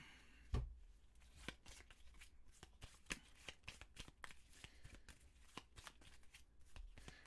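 Cards from the board game Last Aurora are shuffled by hand, giving a run of sharp riffling bursts and soft card slaps in a quiet room, with a heavier thump near the start and no talking.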